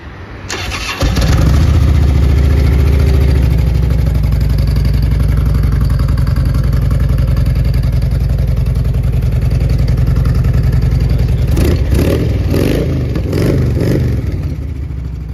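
A 2008 Harley-Davidson Electra Glide Ultra Classic motorcycle engine cranks and fires up loud and close, settling into a steady, lumpy idle with a few throttle blips near the end.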